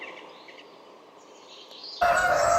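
A rooster crows from a short distance at a poultry farm, followed by a louder, closer crow from a large breeding cock cutting in abruptly near the end.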